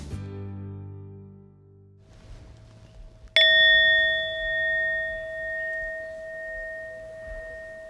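A single bright bell tone rings out sharply at a school and sustains, slowly decaying, after a low hum and a brief fading tone.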